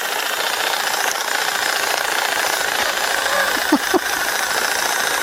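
Cordless drill drawing power from a RUNHOOD RALLYE 600 Pro modular power station, giving a steady rough mechanical buzz that runs the whole time, with no voice, and two brief higher squeaks near the end.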